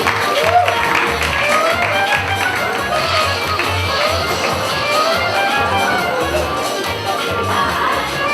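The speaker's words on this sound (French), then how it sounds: "Merci Rémi en régie, on peut l'applaudir bien fort." Audience applause at an improv theatre match final, a dense wash of clapping from a crowd that holds steady throughout, with faint voices mixed underneath.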